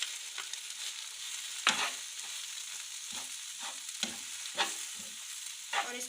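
Egg being stirred and fried into bread churi in desi ghee, a soft steady sizzle broken by a few sharp scrapes and clinks of the spoon against the pan.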